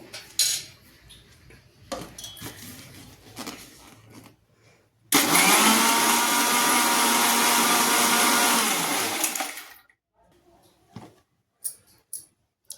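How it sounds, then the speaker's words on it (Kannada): A mixer grinder blends sapota (chikku) juice, its loud, steady whir running about five seconds, framed by light clatter and handling noises before and after. "ಮಿಕ್ಸಿ ಹಾಕೊಂಡು ಬರಮಂತ."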